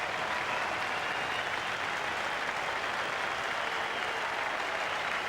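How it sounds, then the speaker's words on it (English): A big crowd at Adelaide Oval applauds Steve Waugh's Test century against Sri Lanka in 1995-96, a steady, dense wash of clapping that holds at an even level throughout, with no voices standing out. "Applauded by this big crowd"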